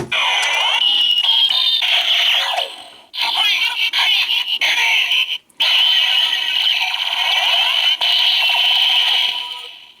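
Bright electronic sound effect from a DX OOO Driver toy transformation belt doing a generic henshin, with warbling, chirping synthetic tones and a steady high whine, loud and continuous with two brief dropouts.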